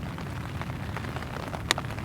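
Heavy rain pelts an MSR Elixir 1 tent during a solo wet camp, a dense steady patter filling the whole stretch, close and continuous with one sharper tap near the end.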